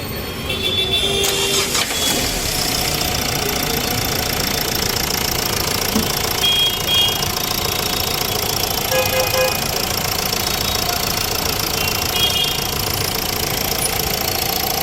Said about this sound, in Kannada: ಸ್ಮೂತಾಗಿದೆ ಡೀಸೆಲ್ ಇಂಜಿನು.